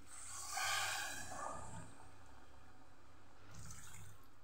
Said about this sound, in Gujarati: એ જ વાટકી 2 વાટકી આપણે અહીંયા પાણી ઉમેરશું